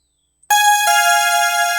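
Synth preset from a Korg M50 in Reason with the release raised, a bright sustained chord striking suddenly and ringing steadily, loud and alone.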